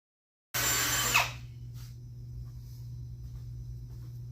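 A power drill bores a countersink hole in a wooden floor on a J20 dump truck bed, starting with a loud high whine that drops after a second into a steady low motor hum.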